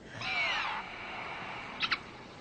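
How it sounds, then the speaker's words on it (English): A raven's cry in open country, a drawn-out hoarse call near the start followed later by two short rapid croaks, heard alone against quiet outdoor background. "Must be a big bird. It's a raven's cry."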